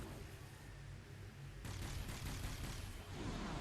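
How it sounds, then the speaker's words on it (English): Airstrikes and gunfire in a real-time strategy match, heard as a dense, continuous roar of explosions and rapid shots that swells louder partway through, with no voices. "Got more airstrikes coming in."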